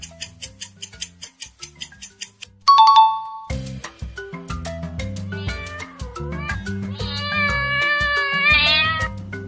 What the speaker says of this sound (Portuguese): Se você respondeu que é o som do gato,